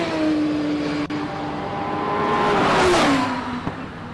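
A Gould race car accelerates up a hill climb course, its engine note rising in a steady loud whine and swelling as it draws near around the three-second mark before easing off.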